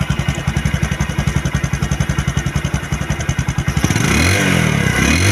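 A Bajaj Discover 125cc motorcycle engine runs close by with a steady, rapid thumping beat, then revs up into a smoother, louder roar.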